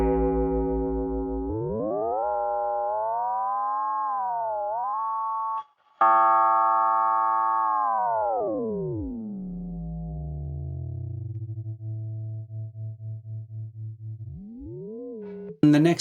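Smooth electronic tones with sweeping, bending pitches that glide up and down, later pulsing in a regular tremolo, produced by a sine-wave ring modulator on an Eventide H9000.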